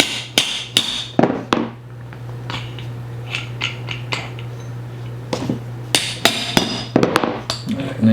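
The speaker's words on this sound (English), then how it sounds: "Then you're going to take that and you're going to tap it out" Sharp metal hammer taps drive a shaft out of a lawn mower spindle, irregular strikes in small bursts over a steady low hum.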